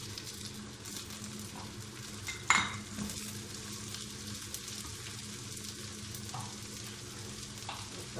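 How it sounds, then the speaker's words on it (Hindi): Potatoes and peas frying in a pan for an aloo matar dish, with a steady, soft sizzle throughout and an occasional clink or scrape of a spoon stirring against the pan. "अब साथ ही इसकी आलू भी डाल लेते हैं"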